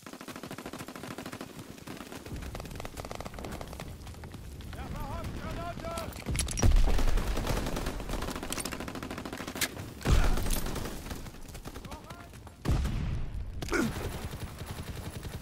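Gunfire in Call of Duty: WWII, a World War II shooter game, with steady dense firing throughout and several louder heavy blasts standing out amid the battle din, while a voice speaks in the background.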